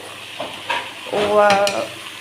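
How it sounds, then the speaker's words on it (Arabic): Rice tipped into a hot pot with spices and chicken stock, sizzling and frying while being stirred, with a brief scraping burst in the middle and a softer sizzle before and after. "نزلت بالرز، خليه ياخد صدمه كده بس مع البهارات"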